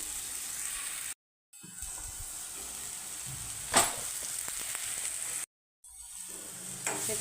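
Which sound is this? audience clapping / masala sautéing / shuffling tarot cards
masala sautéing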